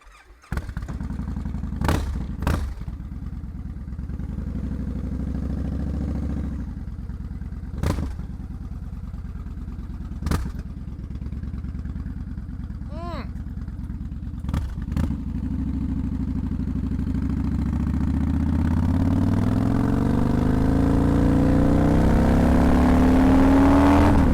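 A 2014 Victory Hammer motorcycle idles with a deep rumble and a few sharp clatters, then pulls away and revs up steadily, the engine note rising and growing louder toward the end.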